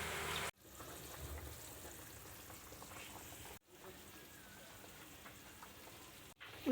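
Fish curry broth coming to a boil in a pan after spices were fried in oil and water added, a steady soft bubbling and sizzling hiss broken by two brief silent gaps.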